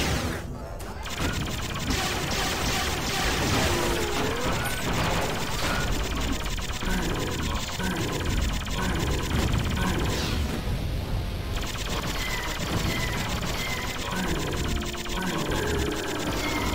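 Enemies open fire on the player in the shooter game Duke Forces, a dense, rapid, rattling gunfire chatter that runs nonstop at steady loudness over busy game sound.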